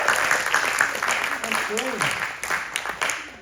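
Audience at a live show applauds a couple married 54 years, a dense, sustained wash of clapping with a voice briefly heard over it.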